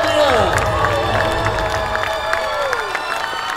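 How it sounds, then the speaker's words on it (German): An audience at a knight tournament show at Schloss Thurn adventure park cheers and applauds the tournament winners, a dense, steady wash of clapping and shouting that fills the short stretch without a break. "Holt euch euren verdienten Jubel und euren Applaus."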